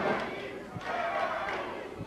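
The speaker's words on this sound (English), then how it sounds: "Listen to that crowd chanting." A wrestling crowd at a Mid South Wrestling event chants in a broad roar with rhythmic swells, heard from within the arena alongside commentary.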